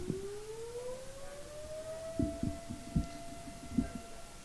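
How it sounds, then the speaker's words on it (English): A fire siren blows with a long rising wail that climbs and then holds steady, sounding fairly faint and distant, while soft irregular thumps tap underneath. "Yes, Teresa, the siren does blow."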